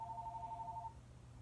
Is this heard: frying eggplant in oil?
no